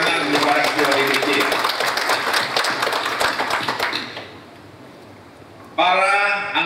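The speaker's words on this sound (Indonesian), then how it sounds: "Tepuk tangan untuk para ketua DPC." Clapping from a party regional congress crowd in a Bali hotel hall for the district chairs, a dense burst of claps that fades out about two-thirds through, followed by a short loud spell of voices or music.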